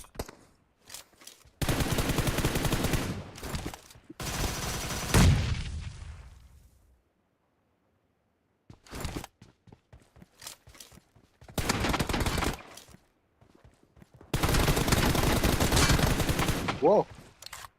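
Rapid automatic gunfire from a shooting video game comes in several loud, close bursts, with a few single shots between them and short silent gaps.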